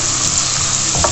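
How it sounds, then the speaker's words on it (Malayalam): Loud, close sizzling of sliced onions dropped into hot oil with mustard seeds for a Kerala squid roast, a continuous crackling hiss with a brief stir near the end. "ആ സവാള ഇട്ട് കൊടുക്കുക."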